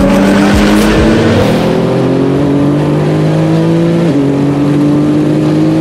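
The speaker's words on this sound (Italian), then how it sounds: "Aspetto il GTR sulla Roma." Nissan GT-R race car tuned to about 1300 hp on a racetrack, its loud engine droning steadily with a rising-and-falling pitch and a brief gear-change dip, close and alone with no talk.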